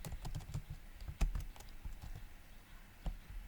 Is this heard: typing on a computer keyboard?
yes